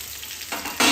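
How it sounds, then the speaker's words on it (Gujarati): Okra cut into long pieces frying in hot oil, a steady broadband sizzle that swells louder as the pieces go in, ending in a loud, dense crackle. "તો હવે આપણું તેલ તો ગરમ થઈ ગયું છે, તો આપણે તેમાં ભીંડા એડ કરી દઈશું."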